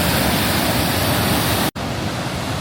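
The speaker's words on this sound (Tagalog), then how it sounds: "So dito na tayo guys sa Lower Falls." Johnston Canyon Lower Falls waterfall roaring as a loud, steady, close rush of water, with a brief cut partway through.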